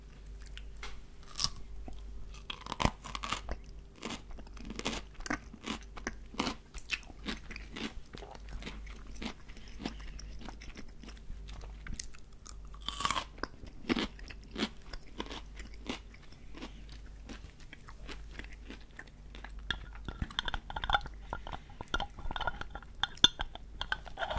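Crunchy pickles from a jar are bitten and chewed close up, with steady crisp crunches and wet mastication repeating throughout, plus occasional glassy clinks of the jar, quiet and intimate with no talking.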